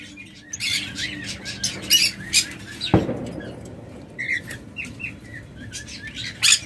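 A pair of pure red-eyed lutino Fischer's lovebirds chirps and squawks in a quick, irregular series of bright calls, close by, over low background hum.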